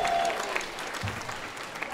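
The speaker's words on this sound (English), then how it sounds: "Let's have one more big round of applause for this amazing band." A middle school holiday concert audience applauds a band, a dense, steady clatter of clapping from a full room that carries through the whole stretch, with a voice briefly heard over it.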